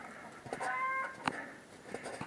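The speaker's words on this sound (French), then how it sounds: "Il y a une de mes poules qui est arrivée à sortir par le toit." A hen that escaped through the roof of its coop after a storm clucks in a few short, soft calls with a brief sharp note in the middle, fairly close and otherwise quiet.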